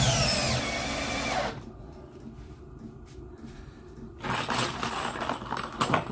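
A power drill drives deck screws into decking, with two bursts of whirring, rising tool noise separated by a quieter pause.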